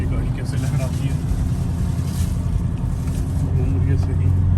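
A Toyota Land Cruiser 76 series pickup truck engine drones steadily at close range while driving in soft sand, rumbling low and constant, while a voice speaks over the noise throughout.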